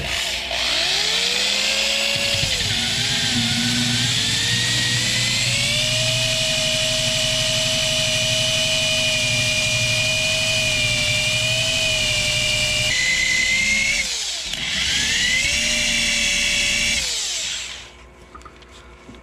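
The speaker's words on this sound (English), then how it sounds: "drill and run it along the adhesive surface, and it'll take it right off of there" An electric drill spins an adhesive-removal wheel against chrome trim glue on a Dodge Ram, a loud close whine that ramps up, holds a steady pitch, dips briefly and surges again before stopping.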